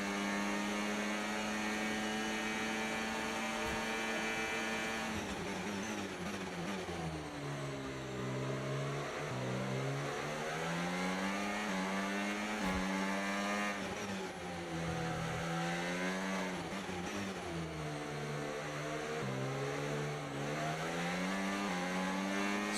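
Racing car engines in a video game hold a steady, loud whine that rises and falls as the cars accelerate and shift, continuous throughout with no talk.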